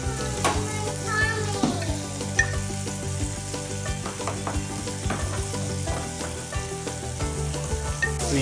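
Maple syrup sizzles and fries in a hot pan as a base for ham, a steady dense crackle with busy bubbling that stays loud and close throughout, with no voices over it.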